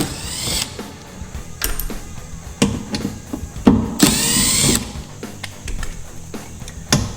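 T15 bolts come out of a Chevrolet ZR2 truck during a mudflap install: close, irregular clicks and ratcheting taps from a tool, with a few brief whirring bursts between quieter gaps.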